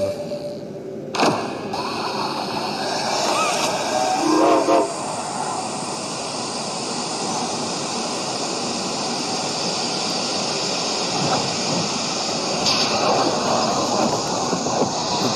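A train in the Poppy Playtime video game rumbles and clatters along the rails for a long stretch, loud and continuous, with brief whistle-like screeches and a few clanks.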